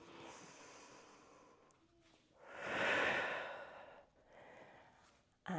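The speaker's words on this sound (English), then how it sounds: "Then inhale to start. And then exhale" Slow, audible exhale during a guided breathing exercise, a soft breathy swell that builds and fades over a couple of seconds, close and quiet, with lighter breaths around it.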